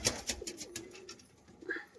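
Soft, throaty cooing from a male pigeon among crested fancy birds, several low pulsing calls close by with faint background sounds and no talking.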